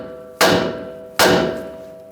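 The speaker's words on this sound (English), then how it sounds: "If not, just use a hammer." Two sharp metallic hammer strikes ring out about a second apart, each decaying slowly, as a ball joint is tapped out of the steering knuckle on a 2011-2018 Ram 1500; loud and close with no talking.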